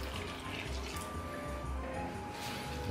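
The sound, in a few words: water poured into dough mixture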